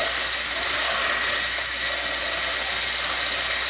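An electric mixer whirs steadily while blending chicken and veggie mac and cheese in a home kitchen, a continuous close motor drone with a bright hiss and no break.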